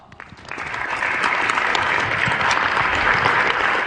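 An audience at an employee motivation talk breaks into a round of applause, a few scattered claps at first, then quickly swelling to full, sustained clapping that stays loud and steady.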